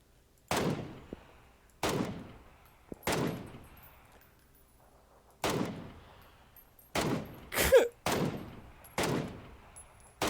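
Repeated gunshots in PUBG on the desert Miramar map, seven or eight sharp loud cracks spaced irregularly about a second apart, each with a short rumbling tail, with no talk.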